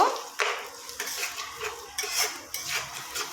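A spoon stirring prawn pasta in tomato sauce in a pan, with a series of close metallic scrapes and clinks against the pan in an irregular rhythm and faint sizzling underneath.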